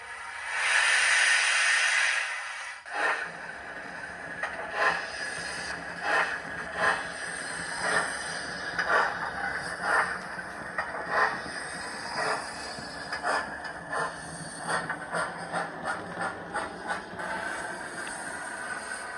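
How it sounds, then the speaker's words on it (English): Model steam locomotive chuff from a Hornby TXS or ESU Loksound sound decoder: a brief hiss opens, then a steady, evenly spaced chuffing beat repeats close and clear, with no talk over it. "let's listen to the chuff."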